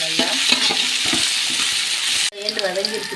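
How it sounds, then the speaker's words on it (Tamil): A handful of mint leaves sizzles and fries in hot oil in a pan while making chicken biryani, a continuous close crackling hiss with stirring scrapes, briefly cut and resuming. "எண்ணெயில் இப்போ ஒரு கைப்பிடி புதினா புதினாவும் போட்டாச்சுங்க இதுவும் டென் செகண்ட் வதங்கணுங்க"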